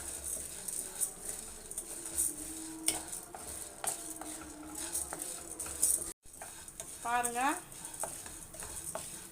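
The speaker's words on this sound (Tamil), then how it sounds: "நல்லா இப்போ வறுத்துக்கலாம்." Idli podi ingredients dry roasting in a pan with a little oil, stirred continuously; faint crackle and scraping of a spatula against the pan with soft clinks, someone speaking briefly over it.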